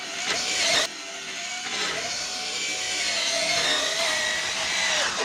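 High-pitched electric whine of a Traxxas Slash 4x4 RC truck motor on 3S power at full throttle, loud and sustained, with a brief dip in pitch partway through.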